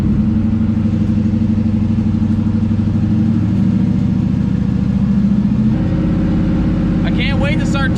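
A car engine held at a steady fast idle of around 2,000 RPM after an overheating fix, heard as a loud continuous droning hum, close, with a brief light rattle near the end.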